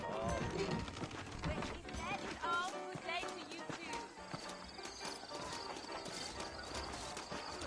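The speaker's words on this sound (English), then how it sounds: "I got the horses saddled up and ready out front." Horses' hooves clip-clopping in the Western video game Red Dead, a rhythmic trot under a man's spoken dialogue and music, steady and close throughout.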